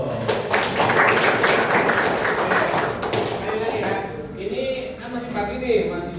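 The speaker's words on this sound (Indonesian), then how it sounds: "Tepuk tangan dong" A class of schoolchildren clapping their hands together in a classroom, a dense flurry of claps over busy chatter that thins out toward the end.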